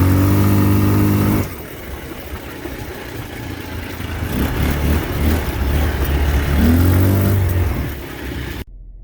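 A Rato 200 ATV engine revs loudly at first, drops to a lower drone, then climbs through a couple of strong revs before cutting off abruptly.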